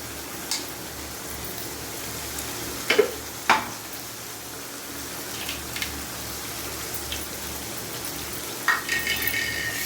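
Onion and tomato paste for a chicken curry fries in a pan with a steady, soft sizzling hiss, broken by a few sharp clinks and stirring sounds, with no voices.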